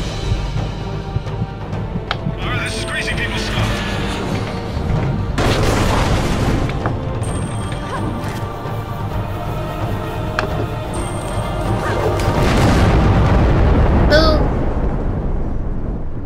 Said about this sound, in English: the explosion was kind of unnecessary